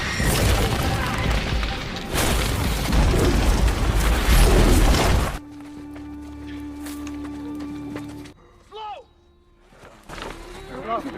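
A loud, sustained roar and crash of an explosion amid a tense firefight in a war film, giving way to a quieter stretch with lingering rumble and scattered sounds afterward.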